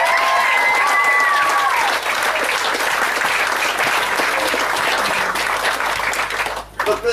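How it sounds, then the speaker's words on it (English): Loud, sustained applause from a crowd at a speech event, dense clapping filling the room and continuing throughout, with a few brief voice tones early on. "Let's give them a round of applause."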